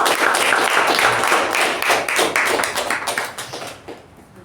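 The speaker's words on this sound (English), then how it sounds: "Let's give a huge round of applause for Toastmaster Jyothi." An audience at a Toastmasters meeting gives a round of applause, with dense, steady clapping that fades toward the end.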